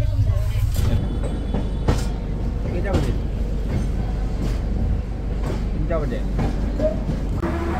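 The Kamakhya Puri Express pulls into Asansol Junction with a steady low rumble and rattle of rolling coaches. Sharp clanks and knocks punctuate it, and people talk continuously over the train noise.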